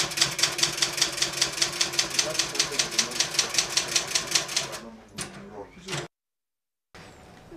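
A manual typewriter in a Kenyan police office clatters in a rapid, steady run of keystrokes close to the listener, then breaks off into a few scattered knocks and a brief silence.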